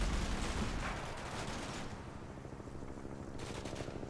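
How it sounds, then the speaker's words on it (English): Gunfire and shelling in the modern war game Combat Mission: Black Sea, a dense rattle of overlapping shots and rumbling distant impacts forming a continuous, busy din. "Lots of indirect fire landing everywhere."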